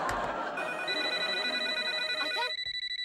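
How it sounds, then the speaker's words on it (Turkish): A telephone rings indoors in a home, a bright electronic trill that runs steadily for a few seconds, then switches to shorter pulsed bursts before stopping, close and clear with no talk over it. "Ayten çalıyor bu Ayten."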